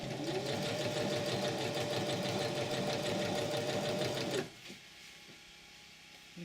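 A sewing machine stitches binding tape onto buckskin moccasin uppers, a fast, steady, close mechanical chatter that stops abruptly partway through, leaving a quiet hum.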